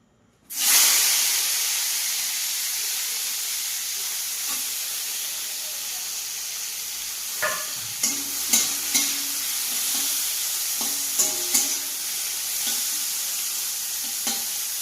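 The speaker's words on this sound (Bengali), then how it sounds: "কড়াইতে আমি তেল দিয়ে দিয়েছি, তেলটা গরম হয়ে গেছে। এবার আমি পটলগুলো এখানে ছেড়ে দেব।" Pointed gourd (potol) pieces drop into hot oil in a kadai and set off a sudden loud, steady sizzle that hisses on close by, broken now and then by soft clinks of stirring.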